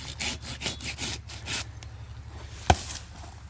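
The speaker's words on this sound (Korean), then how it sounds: "자, 이런 식으로 나무 하나를 좀 잘랐습니다." A hand saw cuts through a pine tree branch outdoors in repeated rhythmic back-and-forth strokes, close and moderately loud, ending with a sharp crack as the limb gives way.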